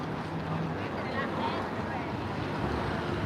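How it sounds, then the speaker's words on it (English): Strong wind buffets the microphone outdoors around San Francisco, a continuous low rumble with faint, muffled talk beneath it. "it's so windy if I stay on this outer route"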